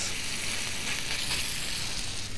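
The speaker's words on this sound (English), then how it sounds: "Sear the cod." A cod fillet sears in hot oil in a pan, giving a steady, dense, close sizzle that stays loud and even from start to finish.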